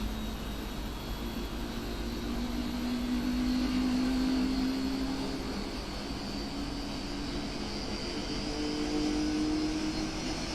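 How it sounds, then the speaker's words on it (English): Steady, full jet engine roar from a PMDG 747-8 in the Prepar3D flight simulator, a continuous broadband rumble with a faint rising tonal whine, no voices. "Beautiful sound these engines make"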